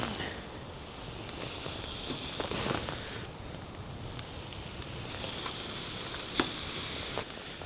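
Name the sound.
thin seasoned steaks sizzling on a Blackstone griddle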